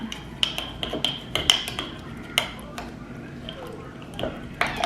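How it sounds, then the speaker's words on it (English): Meal prep food, salmon dinner portions, being stirred with a utensil, scattered close clinks and scrapes against a container, moderately loud over a low hum, with a person speaking in between. "I'm just gonna go ahead and stir this up"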